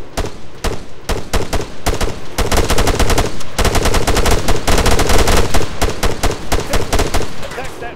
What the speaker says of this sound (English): Machine gun 100 meters southwest.